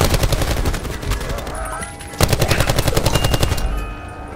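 Rapid submachine gun fire in Call of Duty: Black Ops 4 Zombies, loud close bursts of fast automatic shots with a brief pause midway before another sustained burst.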